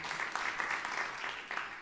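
A church congregation claps together after a call to praise God, a dense steady patter of many hands with small surges, fairly distant and alone without talk for a couple of seconds.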